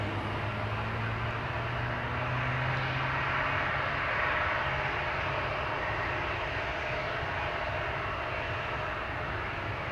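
A jet engine test run at Amsterdam Schiphol Airport, a continuous loud roar with a steady whine and low drone, held at a constant level without voices.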